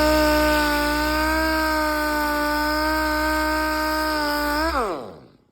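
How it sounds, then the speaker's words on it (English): Six-inch DA sander on an 82-92 Camaro wheel, whining with a steady high-pitched tone that holds at full speed, then winds down in pitch as it shuts off near the end. "if you have a DA sander like this, you can get it on here"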